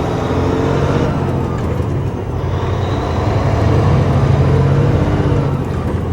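An RV hauler truck slows with its engine brake set to low. A loud, steady engine drone and road roar carry on throughout from inside the cab, with a slight swell near the middle and no speech.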